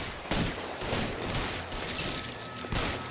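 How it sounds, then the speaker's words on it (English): A burst of gunfire rings out in the video game L.A. Noire, with several sharp shots over a dense, continuous crackle of firing. "Oh, another shooting!"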